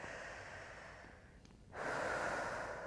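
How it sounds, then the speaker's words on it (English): Quiet breathing during a forward-fold yoga pose, a soft steady breath followed by a fuller, louder exhale near the end, alone and close. "Take a couple breaths."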